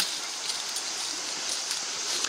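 A mountain torrent rushes steadily nearby, a dense continuous wash of water with no break, loud and alone.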